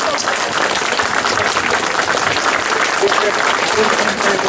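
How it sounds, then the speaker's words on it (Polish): Sustained, dense applause from a crowd under a tent for MEP Janusz Wojciechowski at a Solidarni 2010 gathering, loud and even throughout with no break. "Wielkie brawa, dziękujemy serdecznie."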